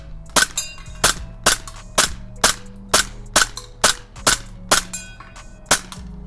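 A pistol fires about eleven sharp, evenly spaced shots at can targets, each crack loud and close with a brief ringing tail and metallic clinks between.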